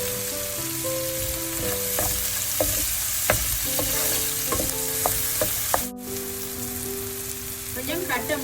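Sliced onions with a pinch of salt sautéing in hot oil for an ivy gourd stir fry, with a steady close sizzle broken by repeated clinks and scrapes of stirring.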